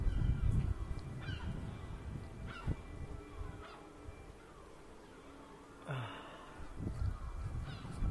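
Seagulls calling outdoors on a European stone-paved street, several scattered honking cries at moderate distance over low background rumble, with no talk.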